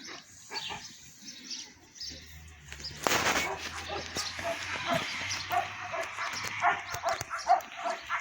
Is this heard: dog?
yes